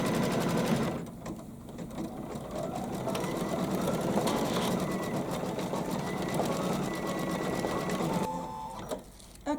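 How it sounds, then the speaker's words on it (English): A domestic embroidery machine stitches out a bird's beak and legs for a Kimberbell project, giving a steady rapid mechanical chatter that runs nearly the whole time and stops near the end. "we are going to stitch out the first part of their beak and then the legs"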